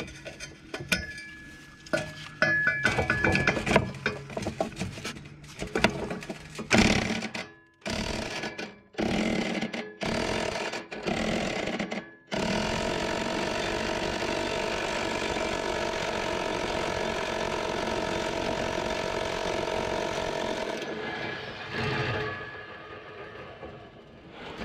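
Impact wrench working the trailer hitch bolts on a 1998 Jeep Cherokee XJ, starting in short choppy bursts and then running in one long continuous buzzing whine for several seconds before stopping, loud and close with no talking.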